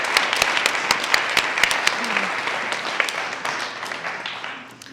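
A big round of audience applause for six candidates at a sponsored event show, dense clapping with sharp individual claps near the start, gradually fading toward the end.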